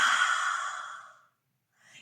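One forceful breath is blown out with the tongue stuck out during a breathing exercise, a loud close airy rush that fades over about a second, followed by silence and the faint start of the next breath.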